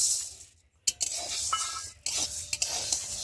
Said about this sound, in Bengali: বিউলির ডালটা প্রথমে আমি কড়াতে দিয়ে ভালো করে ভেজে নেব।